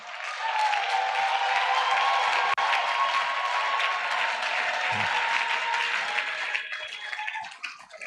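A church congregation at a worship service bursts into sustained applause and cheering, a dense wash of clapping and voices that stays loud and steady for several seconds before thinning slightly at the end.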